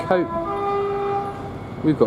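At Nuneaton station on the West Coast Main Line, a Class 66 freight train sounds a long steady horn blast, with short tooting bursts at the start and end over a continuous rumble.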